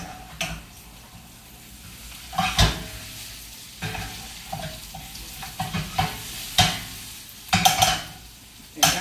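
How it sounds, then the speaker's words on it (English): Potatoes fry in a greasy pan under a constant sizzle, while a spoon stirs and scrapes through them in repeated bursts, each scrape rising briefly over the hiss. "let me stir my potatoes right fast"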